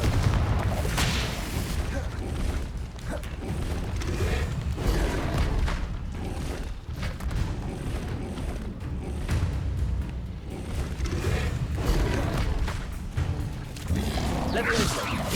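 Explosive Confringo spell blasts boom repeatedly during Hogwarts Legacy spell combat, with whooshes and crashes amid busy game action and a voice calling out spells.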